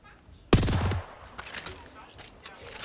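Sentinel rifle in the game Apex Legends fires one loud sharp shot followed by fainter impacts and rattling effects, heard up close.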